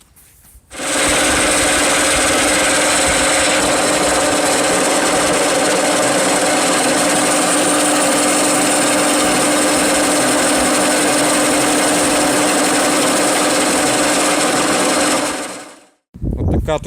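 A homemade handheld milling machine cuts teeth into a homemade motorcycle front sprocket held on a mandrel. It gives a loud, steady grinding whine that runs unbroken for about fifteen seconds, then stops abruptly.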